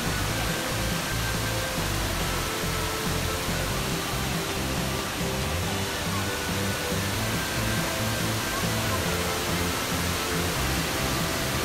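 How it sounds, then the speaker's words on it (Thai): A steady, dense roar of rushing water from the cliff-face Chet Sao Noi Waterfall fills the whole clip without pause, loud and unchanging. "เป็นหน้าผาเลยนะครับ เป็นผาน้ำตก"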